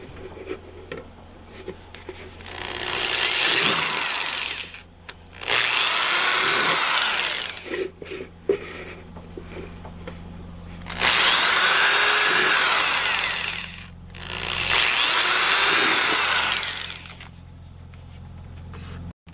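A power drill bores holes into wood for a bird feeder, whining loudly in four sustained bursts of a few seconds each, separated by quieter pauses with light handling noises.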